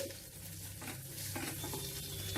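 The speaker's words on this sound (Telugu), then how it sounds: "హై ఫ్లేమ్ పెట్టకుండా మీడియం ఫ్లేమ్లో ఒక్క నిమిషం ఫ్రై చేసుకోవాలి ఈ వెల్లుల్లి కొద్దిగా మనకు" Garlic and a pinch of asafoetida fry in a pan over a medium flame, giving a steady close sizzle with light stirring scrapes throughout, no voices.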